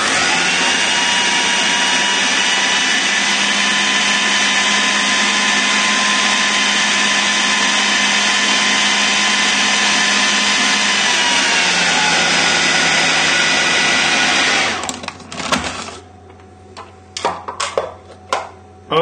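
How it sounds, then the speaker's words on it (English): A kitchen blender whirs loudly and steadily through a Baileys biscuit mixture for about fifteen seconds, then cuts out, leaving a few scattered clicks and knocks. "Now pop the lid back on and then just give it another blend."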